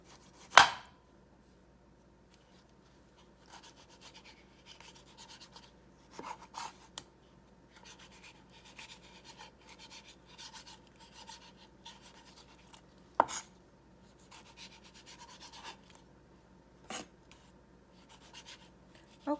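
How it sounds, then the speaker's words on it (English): A knife slices tomatoes on a cutting board while a Moroccan chicken tagine is prepared, one sharp chop and then scattered soft cuts and taps repeating close up in a quiet kitchen. "I'm gonna continue with cutting tomatoes until I'm done with it"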